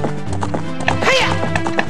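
Horse in Zelda Ocarina of Time galloping with a quick, close clip-clop rhythm and a loud whinny in the middle, with game music underneath.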